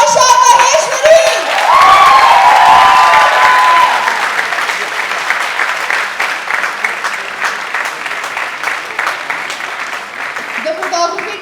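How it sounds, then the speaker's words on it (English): An audience applauds at a Coliseum Productions event, a dense wash of clapping with cheers and a few voices rising at first, then settling into steady, slightly thinning applause. "Please give a huge round of applause for Harsha Maheshwari."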